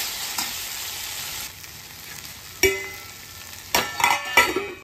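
Tomato, brinjal and green chillies sizzle and fry in a pan with tamarind and curry leaves, a soft steady hiss and several sharp clinks of a utensil stirring toward the end.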